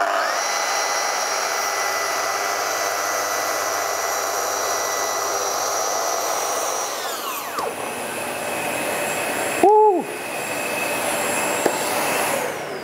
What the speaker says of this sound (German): Nur zum Vergleich sägen wir jetzt nochmal eine 5 mm Nut hier im MDF.